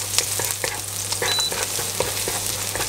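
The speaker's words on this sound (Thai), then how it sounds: "ผัดให้กระเทียมหอมเหลืองเลยนะครับ" Chopped garlic stir-fried in hot oil for an oyster-sauce broccoli dish, a steady close sizzle broken by repeated scraping and tossing strokes of the spatula.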